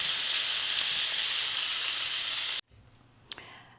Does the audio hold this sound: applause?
no